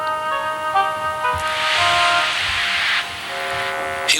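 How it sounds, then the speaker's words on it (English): A steam engine lets out a loud, broad hiss that swells for about a second and a half and then cuts off, over steady sustained tones, while it shunts at a distant island station. "That sounds like a steam engine"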